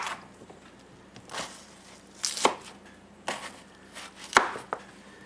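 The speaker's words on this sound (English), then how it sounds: "Cut your little chunks off." A knife chops a potato into small chunks on a cutting board: about five or six sharp, irregular thunks close up, with quiet gaps between the cuts.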